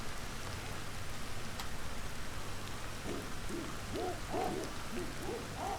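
Steady rain falls throughout a scene in the video game Ancestors, a constant hiss with owl-like hoots calling faintly in the later seconds.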